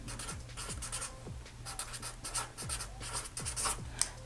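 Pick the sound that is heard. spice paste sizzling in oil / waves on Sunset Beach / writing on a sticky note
writing on a sticky note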